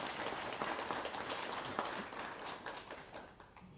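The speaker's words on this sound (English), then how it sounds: "How about a round of applause for him" A round of applause from the audience at a racing hall of fame ceremony, fairly soft and distant, sustained and slowly fading toward the end.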